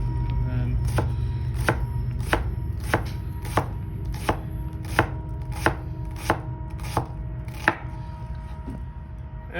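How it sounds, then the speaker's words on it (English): A knife minces an onion on a cutting board in about a dozen sharp, evenly spaced chops, close and distinct over a steady low background hum. "that's how you mince an onion"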